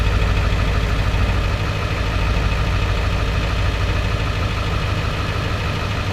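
A 2001 Ford F-250 Super Duty pickup with a 4R100 transmission runs at a loud, steady idle close by, a dense continuous engine drone with little change while its transmission gears are cycled.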